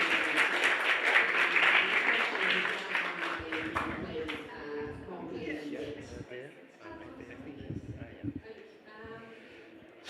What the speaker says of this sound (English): a big round of applause for our panelists